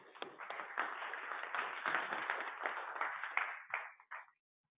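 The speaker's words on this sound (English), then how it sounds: "give him a round of applause" An audience at a Python meetup applauds for several seconds in a steady wash of clapping that thins out and stops abruptly, recorded through a narrow, muffled channel.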